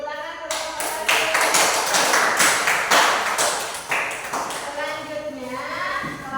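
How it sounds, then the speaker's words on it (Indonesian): Students in a classroom break into a short round of applause for group one, a burst of bright claps that rises and then trails off, with children's voices talking over and after it. "Beri tepuk tangan kelompok satu."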